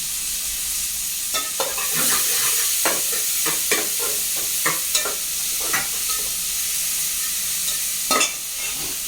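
Dried chillies, mustard seeds and curry leaves fry in hot oil with a continuous bright sizzle, broken by repeated sharp crackles and spatula scrapes at an uneven rhythm, close and fairly loud.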